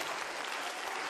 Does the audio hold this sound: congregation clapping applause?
yes